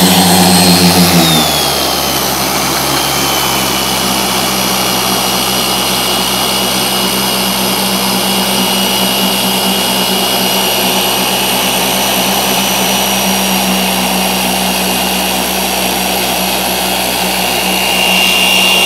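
A paint correction polisher running steadily at speed 5.5 while working out scratches and swirls, a loud, constant whirring drone that holds even for the whole stretch after a brief spin-up at the start.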